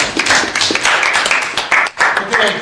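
A room of people claps in a round of applause after a class presentation. The clapping is brisk and dense, with a brief dip near the end, and a voice speaks faintly underneath.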